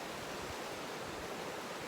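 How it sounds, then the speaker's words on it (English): A rushing river runs beside a campsite on the Continental Divide Trail, a steady broadband roar of water, close and constant. "I really hope you can hear me over that river."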